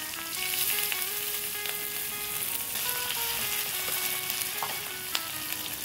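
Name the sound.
onions frying in leftover fish-frying oil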